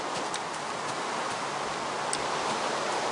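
Minecraft rainfall as a constant broadband hiss, gentle and uniform, with a couple of faint tick-like drop sounds and no voices.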